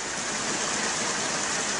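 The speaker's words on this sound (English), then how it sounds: "We're in some random stream with a bunch of garbage." Water from a polluted, garbage-strewn stream rushes and splashes in a steady, broadband wash, close and loud with no talk.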